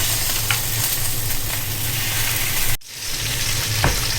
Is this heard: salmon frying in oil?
yes